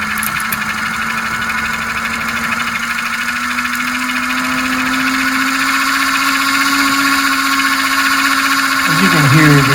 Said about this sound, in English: smoke unit is running at pretty high RPMs now